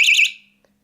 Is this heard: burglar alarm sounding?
yes